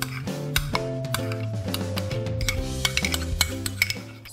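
Mango pulp is stirred in a pan over medium heat. A spoon clinks and scrapes repeatedly against the metal, with light rhythmic taps and soft cooking sounds under a faint tonal background.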